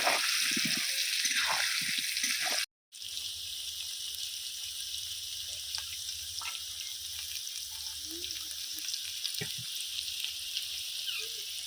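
Potatoes fry in oil with salt and turmeric, giving a steady, close sizzle under occasional talk, with faint clatters and a short gap near the start.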